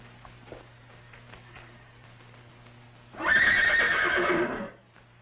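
A horse whinnies inside a house library in a 1936 comedy, one loud drawn-out neigh lasting over a second after a quiet stretch of low room hum.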